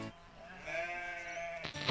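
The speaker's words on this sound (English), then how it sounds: "These are our Shropshire sheep." A Shropshire sheep in Australia gives a single drawn-out bleat, wavering and fairly close, with a bit of quiet background noise and a faint rustle at the end.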